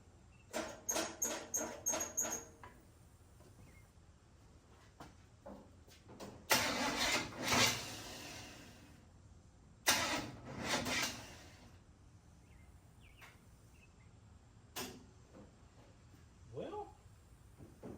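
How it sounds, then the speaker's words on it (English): A car engine running on head gaskets, with its distributor set 180 degrees out, cranks in a quick run of starter bursts. Two longer, rough surges follow as it tries to catch, separated by quiet gaps and ending with a few faint clicks. "That last surge like that kind of acted like the engine wanted to run backwards."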